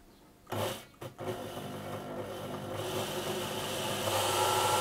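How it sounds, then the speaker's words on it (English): Elna Electronic sewing machine motor on a repair test: a couple of brief clunks, then a steady whirring hum that builds slightly and runs continuously, close and fairly quiet. "this will test our motor"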